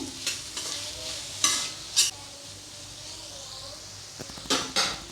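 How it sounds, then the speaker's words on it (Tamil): Capsicum sautés in a pan for veg egg noodles, a soft sizzle under a few sharp spoon scrapes and clinks against the pan, close up with no talk. "இப்போ குடமிளகா லைட்டாக வதங்கிடுச்சு"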